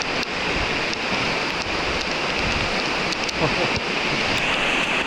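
A waterfall in Iceland roars in a dense, steady rush of falling water, loud and unbroken throughout.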